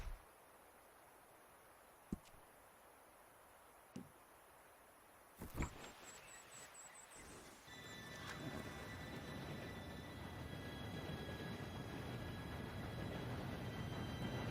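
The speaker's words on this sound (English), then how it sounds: "Train should be here any minute now." In Red Dead Redemption 2, a few faint clicks give way to a low rumbling roar that swells and holds as a train approaches, with a high steady whine over the rolling noise and no talk.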